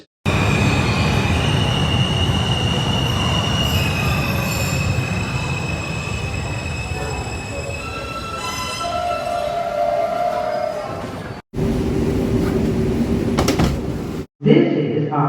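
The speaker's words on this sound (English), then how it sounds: "This is a Harlem 148th Street bound 3 express train." New York subway 3 express train pulling into 116th Street station, wheels squealing loudly in long high screeches over a rumbling roar, then brief door and platform noises after a pause.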